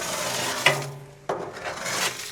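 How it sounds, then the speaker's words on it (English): Short metal scrapes across the grate rails of an M Grill to knock off ash, two distinct strokes with a sharp rasping onset, close and clear, no voices. "I'm going to scrape the top of my grate rails"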